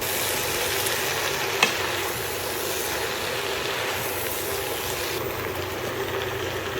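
Chop suey vegetables sizzling steadily in a hot pan, a dense continuous hiss with one sharp clink of a utensil and quiet scraping as they are stirred, heard up close without talking.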